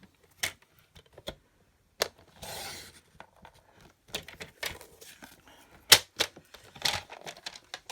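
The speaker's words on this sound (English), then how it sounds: "finish it off with my snips, but just having cut the most of it out." Snips cut through paper in sharp, close, irregular crisp clicks and short snaps, with one brief rustle of paper being handled.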